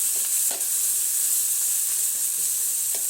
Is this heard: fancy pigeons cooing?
no